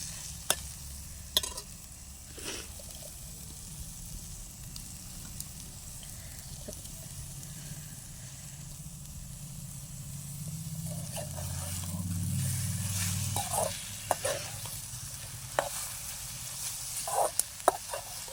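Egg and tomato frying in a pan during a home dinner cooked in a power cut, a low steady sizzle with scattered spatula scrapes and clicks, growing a little louder midway, with no one talking.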